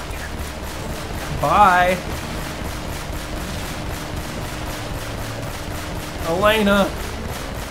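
Gunfire in the action game Uncharted: Drake's Fortune crackles as steady rapid shots under the scene, while voices call out briefly twice over it.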